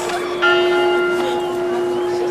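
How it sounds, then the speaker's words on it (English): Church bells ring steadily on Mozart Square in Salzburg, a sustained, continuous bell tone carrying across the square at moderate distance, with people talking over it. "We're listening to the church bells"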